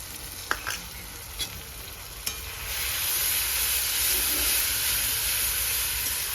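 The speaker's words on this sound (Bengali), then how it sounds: "আদা রসুনের পেস্ট দিয়ে দেবো" Ginger garlic paste hits a hot pan and sizzles steadily in frying oil, a close, continuous hiss that swells after a few light clinks of a utensil.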